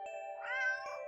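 A stray cat in the Do Not Take This Cat Home video game gives one clear, rising-and-falling meow, close and alone, with faint clicks at either end.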